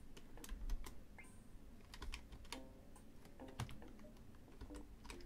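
Computer keyboard keys, Tab and arrow keys, are pressed in a quick, irregular series of close, light clicks and taps while a DOS game is played, with no voice over them.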